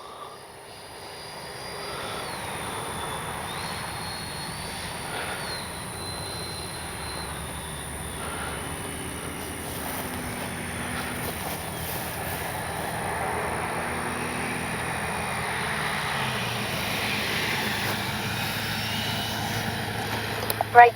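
A Freewing BAC Lightning 64mm EDF RC jet makes a fast pass during its maiden flight, a steady whining turbine-like roar swelling and shifting in pitch across the field, moderately loud and continuous.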